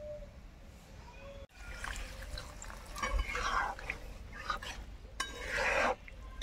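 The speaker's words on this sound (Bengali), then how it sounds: "এবার আমি একটু জল দেব" Water is poured into a pan of sautéed potatoes, a steady trickle and splash with gurgling bursts and light sizzle, close and fairly quiet.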